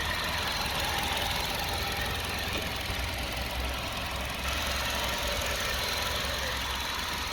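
Engine of a 2008 Honda Jazz idling steadily, a continuous even mechanical hum with a faint ticking texture, heard close with no voices over it.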